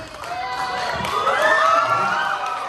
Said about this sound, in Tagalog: Palakpakan naman natin once again na may sigawan na malakas!